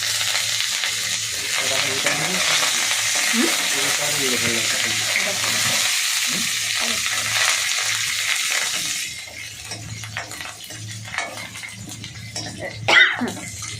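Curry leaves and green chillies crackle in hot oil as a tempering for kadhi, a loud steady sizzle with stirring that quiets midway to softer spatters and a sharp clink, with some speech in the background.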